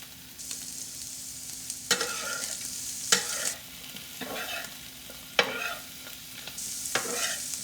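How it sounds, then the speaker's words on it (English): A Spam stir fry with onions sizzles and crackles in a hot pan, with several louder bursts as it is stirred and tossed at irregular intervals. "I'm going to go ahead and refrigerate this while my stir fry is sizzling away."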